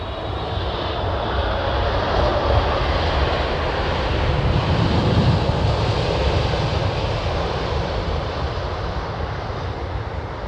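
A Qatar Airways plane in Formula One livery at Heathrow sends out a loud, sustained jet engine roar that holds steady throughout, with no voices over it.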